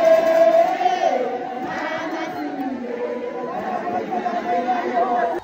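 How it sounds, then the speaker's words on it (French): A crowd of women gathered at the prime minister's residence produces dense, overlapping chatter and raised voices, with a loud, steady murmur throughout. "une foule de femmes a également pris d'assaut sa résidence"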